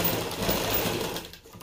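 A sewing machine runs in a fast, steady whir while stitching a seam on palazzo pants, then cuts off abruptly near the end, close and alone without talk.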